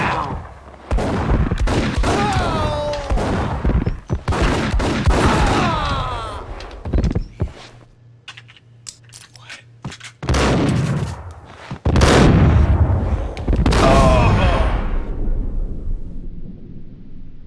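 Heavy video game gunfire in Max Payne erupts in loud, dense volleys of close shots, with repeated blasts, a quieter lull in the middle, then more rapid bursts, mixed with shouted game voices.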